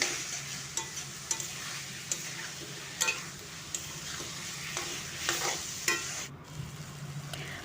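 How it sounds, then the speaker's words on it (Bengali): Spices sautéing in a pan sizzle softly while a utensil scrapes and taps the pan at irregular intervals, close by. "সব একে একে মশলাগুলো দিয়ে কিছুক্ষণ আমি কষে নেব যতক্ষণ না কাঁচা গন্ধটা যাচ্ছে"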